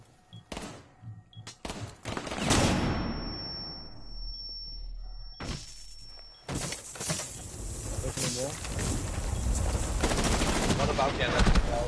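Gunfire in the video game Rainbow Six Siege comes as a cluster of sharp shots and thuds, then a long ringing decay, then more bursts of shots and impacts, fairly close and loud amid game noise.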